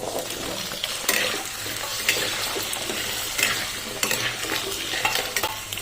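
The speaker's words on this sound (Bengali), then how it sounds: "তেল গরম হয়ে গেছে, এবারে আলুগুলি দিয়ে আলুগুলি ভেজে নেব" Potatoes fry in hot oil in a wok with a loud, continuous crackling sizzle, broken by occasional stirring scrapes, and no voices.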